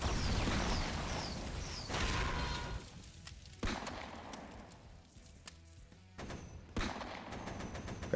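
Gunfire from snipers in the game Jackal Shooter: Army Tank: several sharp shots and bursts ring out over a dense battle din, with loud cracks near the 2, 3.7 and 6.8 second marks.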